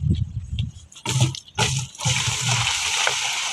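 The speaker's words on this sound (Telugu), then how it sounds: "నీళ్ళు పోస్తున్నావా?" Water is poured out in a village setting in a few separate splashing bursts, the last one a longer steady gush, close by.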